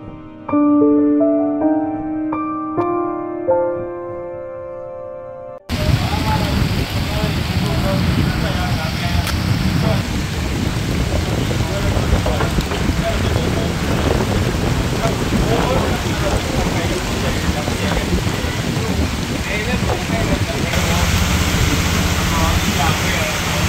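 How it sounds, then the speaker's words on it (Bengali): Light rain falls with wind under a seaside shelter. A short musical intro gives way to a loud, steady broadband hiss of rain and gusts, with a voice underneath. "হালকা হালকা বৃষ্টি পড়ছে, একটা ছাউনিতে বসে রয়েছি,"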